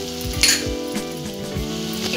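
Turmeric, garam masala, red chili and coriander powder sizzle in hot oil over a low gas flame, a close crackling hiss with a brief bright burst and a few soft clinks of a utensil.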